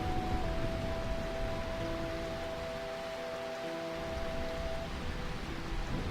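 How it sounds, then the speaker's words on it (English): Rain falling steadily in the city of Burmecia in Final Fantasy IX, a soft, even hiss that runs the whole length beneath sustained musical tones, with no voices. "It does always rain here."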